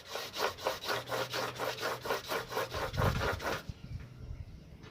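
Rhythmic back-and-forth strokes of sandpaper rubbing a flat RX King motorcycle reed membrane part on glass, about a dozen even scrapes close up, then stopping abruptly to near silence.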